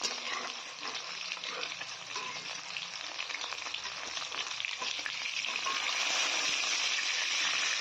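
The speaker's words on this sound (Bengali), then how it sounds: "মাছগুলোর এক পাশ ভাজা হয়ে গেছে উল্টে দিব এবার" Puti fish frying in white oil in a wok make a continuous bright, hissing sizzle with fine crackles, close and fairly quiet, growing slightly fuller toward the end.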